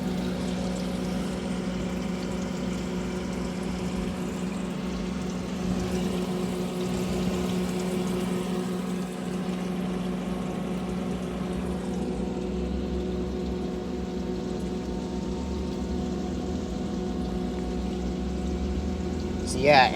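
Steady submersible pump running in the water basin of a homemade cooling tower air conditioning system, a continuous hum and trickling water flow with a big fan above, under someone talking throughout.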